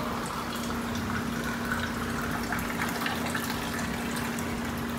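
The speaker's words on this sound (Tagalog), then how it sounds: "sa filter kami kumukuha ng pang tubig dito" Water pours from a water filter into a container, a steady close-up gushing stream with a constant tone and no talking.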